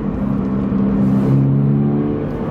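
A sports car with a beefy upgraded exhaust setup revs up, its engine note swelling into a loud, steady drone that holds for a couple of seconds before easing slightly.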